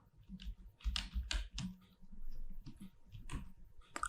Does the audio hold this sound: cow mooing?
no